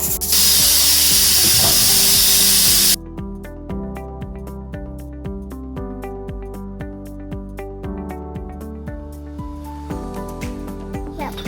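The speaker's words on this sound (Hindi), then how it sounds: "मैंने यहाँ पर कुकर में रख दिया है गोश्त भुनने के लिए" A pressure cooker in a home kitchen, with meat (gosht) browning inside, lets out a loud, steady rush of steam for about three seconds. The hiss then cuts off abruptly, leaving quieter tonal sounds.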